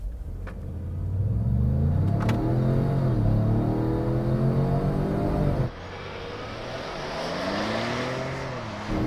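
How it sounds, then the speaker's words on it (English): A 2022 Ford Expedition Limited Stealth Edition with a 3.5-liter EcoBoost V6 accelerates from a stop, its engine rising in pitch through two long upshifting pulls as road rumble builds around it, with no talking. "A little slow off the line, but once it gets going, pretty good pickup."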